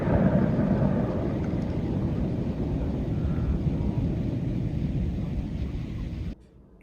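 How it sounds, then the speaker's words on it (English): Explosion echoes rolling between mountains after a fireworks burst on a Pennsylvania farm, a continuous low rumble that fades slowly and cuts off abruptly near the end. "Those sounds that you hear after the second explosion are the echoes of the explosion that are bouncing between the mountains"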